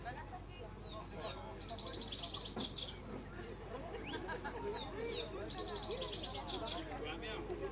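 A toy duck mascot squeezed to chirp at a 2006 car elegance contest gives two short bursts of rapid, high, squeaky chirps over a steady hum of crowd chatter and nearby voices.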